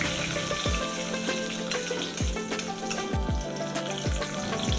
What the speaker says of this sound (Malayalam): ഇനി ഇതിലോട്ട് കടുക്, ഉലുവ, ഉഴുന്നുപരിപ്പ് എന്നിവ ചേർക്കുക.